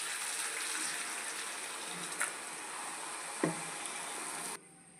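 Water is poured into a pan of tamarind fish curry, a steady faint gushing stream that continues for several seconds before stopping abruptly, with a couple of small clinks.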